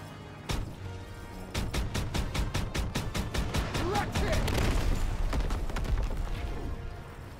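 Rapid automatic gunfire from the Call of Duty WW2 video game rattles in a long dense burst of evenly spaced shots, loud and close, lasting several seconds amid battle noise.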